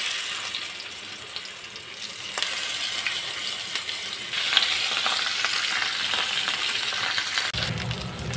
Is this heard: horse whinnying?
no